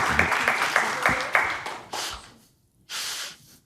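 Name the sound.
applause for three award winners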